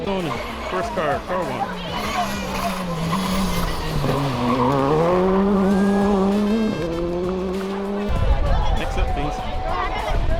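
Rally car at the Sol Rally Barbados 2022 driving a stage, engine revving up and down through gear changes with skidding tyres, loud and close, and a commentator speaking over it.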